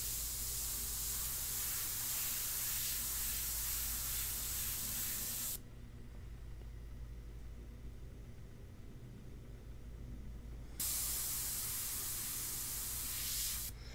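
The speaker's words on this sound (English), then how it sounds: "whenever you feel that airbrush getting a little low, spray it out" An airbrush sprays India ink onto paper in a steady, close hiss that cuts out for several seconds in the middle, leaving only a low hum, then resumes near the end.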